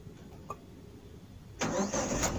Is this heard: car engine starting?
yes